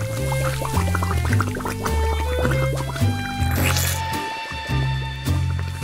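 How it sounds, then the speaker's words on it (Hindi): A whole fish dropped into a green slime cocktail, wet squishy splashing and sloshing under steady background music. "एक पूरी मछली भी इसमें डालना जरूरी है।"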